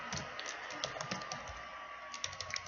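Computer keyboard typing a password in Ubuntu: quick, light key taps in an uneven run over a soft steady background hiss, close and fairly quiet, with no voices.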